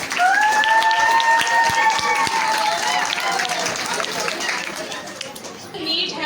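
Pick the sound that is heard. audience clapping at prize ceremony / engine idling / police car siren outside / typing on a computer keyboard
audience clapping at prize ceremony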